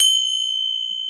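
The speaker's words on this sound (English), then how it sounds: "this type of bells for meditation and to clear out their chakras and negative energies" A small Tibetan meditation bell rings once with a bright, pure tone that sustains evenly, a clear close chime with no voices.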